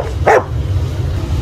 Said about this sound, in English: Why is there a dog in our hotel?